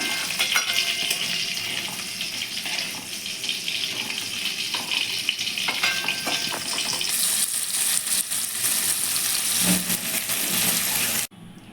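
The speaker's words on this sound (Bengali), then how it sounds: "চিংড়ি মাছগুলো আমার ভাজা হয়ে গেছে এবার আমি এক এক করে তুলে নিচ্ছি" Prawns fry in hot oil, giving a loud, continuous hissing sizzle that runs for about twelve seconds and then cuts off abruptly.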